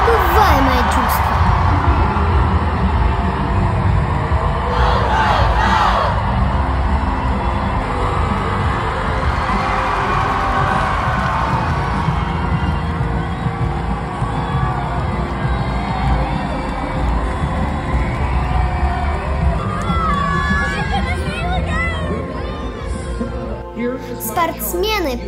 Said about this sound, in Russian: Украине хлопали громче всех.